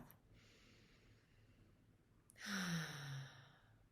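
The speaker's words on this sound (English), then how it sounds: "just sit back a little bit and just take a regular, stabilizing, normal breath." One slow breath is drawn in and then released as an audible, sighing exhale during a calming tapping exercise, close and soft after a quiet pause.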